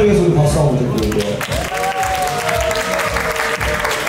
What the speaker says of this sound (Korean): 우리 위니와 나타를 위해서 우리 박수 한번 드릴게요